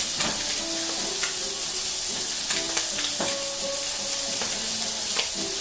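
Risotto with a little butter being stirred in sizzles and bubbles steadily in a pan, with scraping stir strokes and crackling pops throughout, close and loud, no talking.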